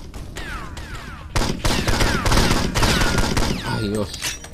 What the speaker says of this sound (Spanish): Me están disparando y no sé de dónde.